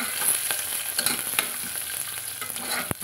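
About ten peeled garlic cloves sizzle and fry in hot oil in a pan, with steady crackling and a few scrapes of stirring, close and alone with no voices.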